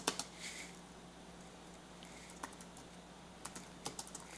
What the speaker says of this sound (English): Let's go over here and type